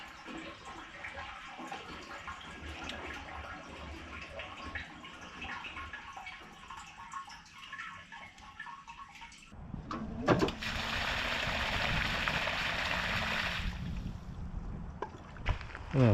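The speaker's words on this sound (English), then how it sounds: "So listen to this water running under the house." Water running beneath a house into a sump in a flooded trench during heavy rain, a steady gushing rush that swells louder and fuller midway through, continuous and close to the microphone with no talk.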